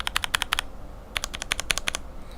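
Mechanical keyboard switches with a Cherry bottom housing click in two quick bursts of crisp, close keystrokes separated by a short pause, with no talking.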